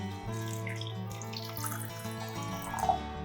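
Water is poured into a mixer grinder jar holding grated coconut for a fine paste, making a faint, steady trickle with a rising ringing tone, and no talk.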